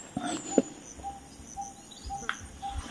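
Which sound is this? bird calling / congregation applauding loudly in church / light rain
bird calling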